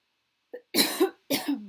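Two harsh, close coughs break a near-silence, each one a rough double burst, with a faint short grunt just before.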